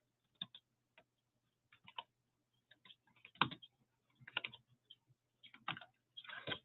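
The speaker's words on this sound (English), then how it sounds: "So hard to try to type without even looking at the keyboard." Soft, close keyboard typing in irregular bursts, individual key clicks and short runs with brief gaps between them.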